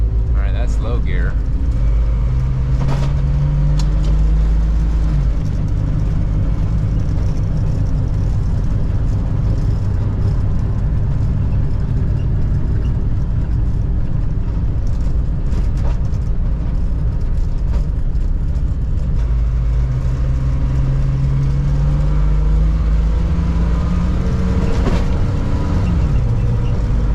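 A Toyota FJ62 Land Cruiser engine drones loudly in gear from inside the cab, revs climbing and easing off as the automatic transmission shifts. Voices talk over the steady rumble.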